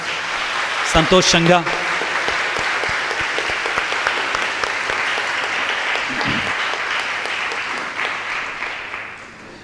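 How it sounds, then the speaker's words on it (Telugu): A church congregation breaks into loud, sustained applause that fills the hall, with a few voices briefly heard near the start. "గట్టిగా చప్పట్లు కొడదాం"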